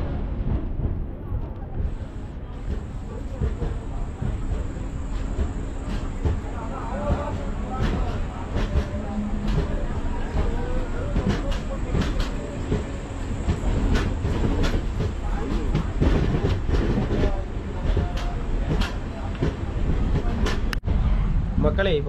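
Inside the Pothigai Super Fast Express running from Tenkasi to Trichy, a loud continuous rumble with clattering wheel beats and rattling carriages throughout, while a voice speaks over it.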